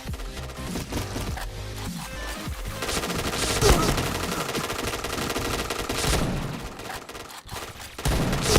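Rapid bursts of automatic gunfire from the Point Blank first-person shooter game, dense and continuous volleys with a loud mix of overlapping shots and game sounds filling the whole stretch.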